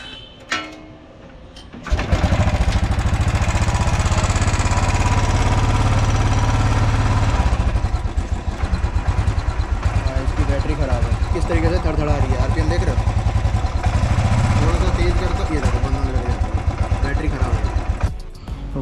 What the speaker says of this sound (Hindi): अब इसको यहाँ से किक मार के स्टार्ट करते हैं।